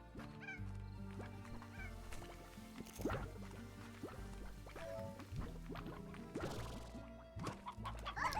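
Chickens cluck in the video game Slime Rancher, short fowl calls mixed into tonal game music alongside watery drips and splashes.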